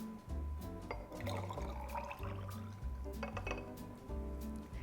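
Vegetable oil and red wine vinegar poured into a glass cruet, with close gurgling liquid and light glassy clinks and knocks, quiet and intermittent, no talk.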